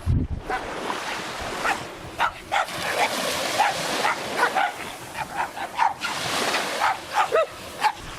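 A dog barks repeatedly at a seaside swimming beach on an island in the Seto Inland Sea, Okayama, with a dozen or so fairly distant yaps over steady surf and wind buffeting the microphone.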